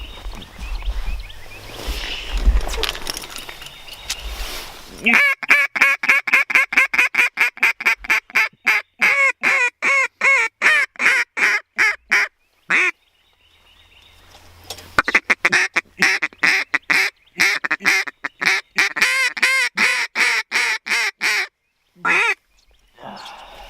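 Many ducks or geese quacking and honking in rapid, repeated bursts, loud and close, with short pauses between runs of calls.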